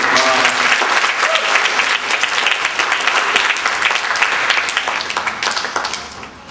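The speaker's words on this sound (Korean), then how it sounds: "왜 박수 치라는지도 모르고 그냥 치다니까 치는 거 다 알고 있어요." Dense, sustained applause from a church conference audience at a sermon, steady and loud throughout before tapering off at the very end.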